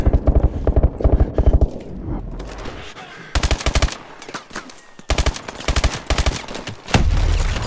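Medium machine gun fire in Call of Duty: Advanced Warfare, loud close rattling bursts that stop and start with short pauses, ending in a heavier rumble, no talking.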